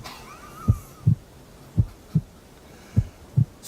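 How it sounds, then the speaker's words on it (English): A slow, steady heartbeat: three pairs of deep, muffled thumps, each lub-dub evenly spaced, heard alone against a faint background hiss. "Serious heartbeat."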